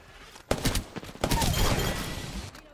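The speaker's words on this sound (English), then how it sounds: "I just killed them both with one burst." A rapid burst of automatic gunfire rattles out in the battle royale shooter Apex Legends, loud and close, the volley running for about two seconds with no one speaking.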